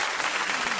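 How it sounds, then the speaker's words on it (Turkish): A short, steady burst of clapping, like a small group applauding together, dense and even for under a second with no voices. "Hepinizi tebrik ediyorum ve hepinizi alkışlıyorum."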